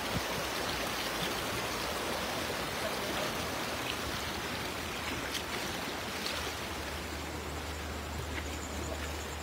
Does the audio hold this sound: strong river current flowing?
yes